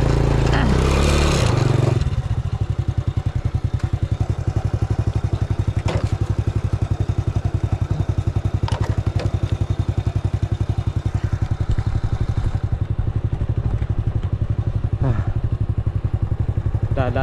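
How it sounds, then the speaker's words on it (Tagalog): A motorcycle rides along a river road in Norzagaray, Bulacan. Its engine putters steadily and close throughout, with occasional clatter and scrape from the rough ground and no talking. "Magaan naman ang motor natin."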